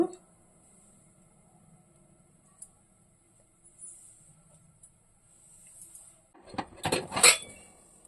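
A metal pan set down on a lit stove in a home kitchen, with a few soft clinks early on, then a louder burst of clattering cookware near the end.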